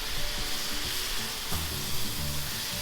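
Ground meat sizzles steadily in a hot pan while it browns for an empanada filling, with a continuous crackling hiss and occasional scraping stir sounds close by.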